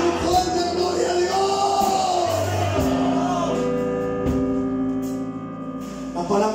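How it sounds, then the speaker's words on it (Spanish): A Spanish-speaking church congregation shouts and cheers together in one loud, sustained roar of many voices that stays full throughout, with a few cries rising above the crowd. "¿Pueden levantar tu mano y gritar un fuerte aleluya?"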